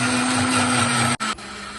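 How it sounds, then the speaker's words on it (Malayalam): A mixer grinder blends fruit juice while powered by a lithium inverter, a loud steady motor whine with a strong hum that briefly cuts out and then resumes near the end, with no talk over it. "ഒരു ജ്യൂസ് അടിച്ച് കാണിച്ചു തരാം. ഒരു പഴത്തിന്റെ ജ്യൂസാണ്."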